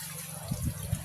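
Irrigation water gushes and splashes steadily onto vegetable plants in a field, with a few soft lower splats breaking through the continuous wash.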